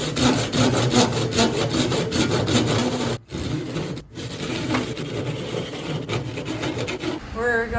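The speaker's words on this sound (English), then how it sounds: "Cheeks using the rip blade, not a cross cut." A rip saw cuts the cheeks of a tenon on a hayrake table crossbar, making steady rhythmic rasping back-and-forth strokes, loud and close, with two brief pauses partway through.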